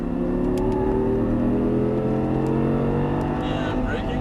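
An Audi R8 on a racetrack with its engine held at steady throttle, giving a loud, sustained, close-up drone with tonal harmonics that climbs slightly as it goes.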